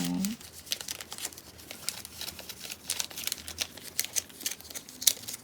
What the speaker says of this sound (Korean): 이거 너무 길어서 중간에 한 번 잘라줄게요